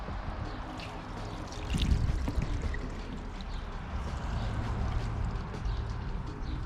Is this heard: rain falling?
no